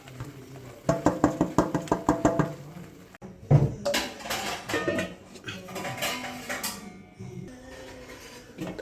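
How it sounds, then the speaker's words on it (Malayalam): Roasted gram flour mixture being stirred in a pot, with a burst of sharp metal knocks and scrapes of a spoon against the pot, then softer clinks and rustling handling noises continuing at moderate loudness. "അത് നമുക്ക് ഇതിനകത്തോട്ട് ഇട്ട് കൊടുത്തിട്ട് നന്നായിട്ട് ഇളക്കി യോജിപ്പിക്കണം"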